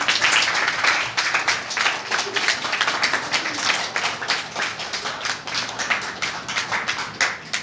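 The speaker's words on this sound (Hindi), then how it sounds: "कृपया तालियां बजाएं।" An audience at a Sahaja Yoga meditation event in a government girls' senior secondary school in Gurugram claps steadily, a dense, sustained wash of applause from many hands, fairly close and continuous throughout.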